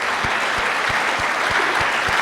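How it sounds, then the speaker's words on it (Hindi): An audience at a Hindi poetry gathering (kavi sammelan) applauds: dense, continuous clapping from a crowd, loud and sustained throughout, with a few faint low thumps beneath it. "तो मैं चाहती हूँ एक बार जोरदार तालियां आप अपने लिए बजाएं।"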